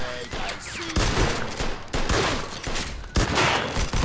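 Rapid bursts of Mafia II video game gunfire, loud and close, several volleys of sharp shots in quick succession with brief pauses between them.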